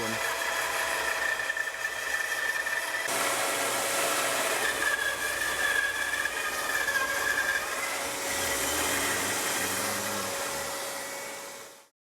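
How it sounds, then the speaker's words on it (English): A bandsaw cutting a guitar neck blank with a vacuum cleaner running for dust collection, a steady loud mechanical whine and roar that shifts in tone partway through and stops abruptly at the end. "there's not much left to do for us but to just move this thing to the bandsaw. I'm going to crank the vacuum cleaner up."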